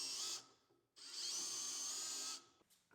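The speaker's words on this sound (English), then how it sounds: "I drilled a 6mm hole about 1/4 of an inch to a steel bar" A power drill whines steadily, boring a 6mm hole into a steel bar in two long bursts, the first short and the second sustained, separated by a brief pause, loud and close with no voices.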